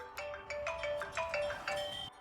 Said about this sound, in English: Oh, getting a phone call.